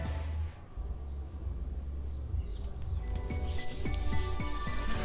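Steady rubbing friction of cloth against a PVC pipe to build static charge, a continuous close scratchy swishing, with faint chirps in the background.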